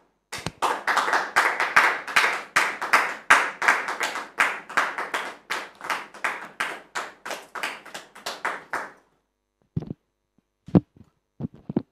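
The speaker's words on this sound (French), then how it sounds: "Merci public de recevoir M. Alban sous vos applaudissements" Studio audience applause on a French talk show, a rapid run of dense rhythmic clapping for about nine seconds that stops abruptly, followed by a few isolated taps and knocks.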